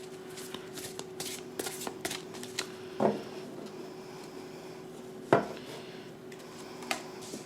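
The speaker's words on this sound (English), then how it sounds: "I'd like to go ahead and shuffle some tarot to give us more insight." A deck of tarot cards is shuffled by hand in quick riffling bursts, with soft card slaps and two sharper snaps standing out close to the listener, and no voices.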